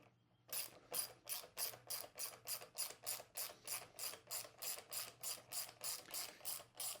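Ratchet tightening a 6 mm bolt on a Kawasaki KLX 300 exhaust, about twenty brisk, evenly spaced clicking strokes, close and crisp, with no talk.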